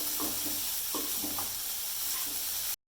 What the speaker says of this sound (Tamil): நல்லா ஒன்று போல கிளறி அந்த வாசம் எல்லாம் பச்சை வாடையெல்லாம் போடும்